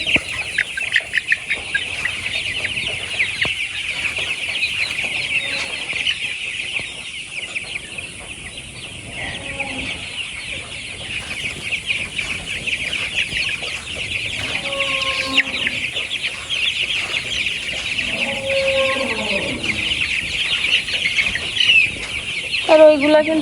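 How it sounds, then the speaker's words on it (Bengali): Chickens clucking in short bursts now and then, close by, over a steady high-pitched insect-like drone. "দেখুন এই মুরগিটা অনেক বড় হয়েছে"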